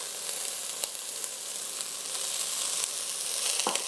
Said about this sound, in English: Next, we'll add some of our beans.